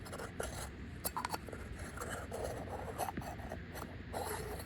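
Metal blast baffle end cap threaded onto a Lyman Paradox DT 30 suppressor, heard as steady close scraping and small ratcheting clicks of metal threads turning, quiet and continuous.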